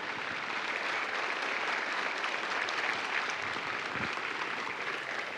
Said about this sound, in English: would you join me in a round of applause for our recruiters and our combat instructors?